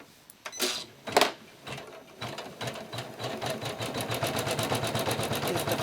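Embroidery sewing machine stitching a flower design on a hooped quilt with very thin batting: a few slow needle thumps first, then a steady fast rhythmic whirring chatter that builds and runs continuously, close and clear.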